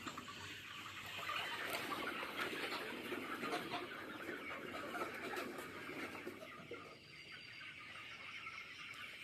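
Grown chickens on a small farm cluck and squawk in a dense, continuous chorus, fairly close and moderately loud, with no talking.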